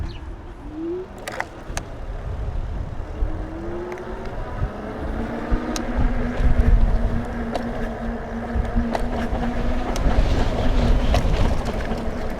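A Kingbull Literider 2.0 fat-tire electric bike rides over rough gravel, giving a continuous low rumble of tires crunching on stones, mixed with wind noise and occasional sharp knocks.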